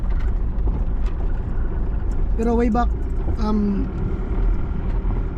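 Busy road traffic on a crowded street during a town fiesta, with many vehicles going by as a continuous engine rumble under people talking nearby, plus a brief tonal sound in the middle.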